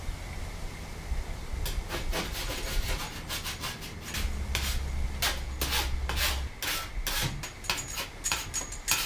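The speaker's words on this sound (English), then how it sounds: "I'm just going to smooth down these holes that I just made with a file" A metal file smooths freshly drilled holes in a 1966 Mustang during a back seat divider install, scraping in a close, repeated rhythm of short rasping strokes over a steady low background hum.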